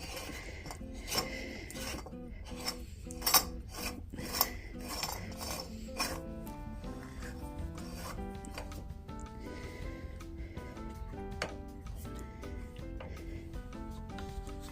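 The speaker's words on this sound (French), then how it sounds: "le support pour mettre nos grilles pour faire nos spritz, et par-dessus l'anneau pour fixer le tout. Et on visse fortement." A fixing ring is screwed firmly onto a spritz cookie press with a steady rasping, grinding rub that runs throughout, alone and fairly close.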